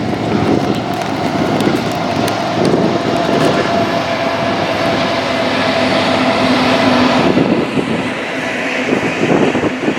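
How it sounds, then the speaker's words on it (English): A long freight train rolls past in New Mexico on a warm July day, a steady, loud rumbling drone with clattering wheels that holds for the whole stretch, without any voices. "Oh, look, there's another train."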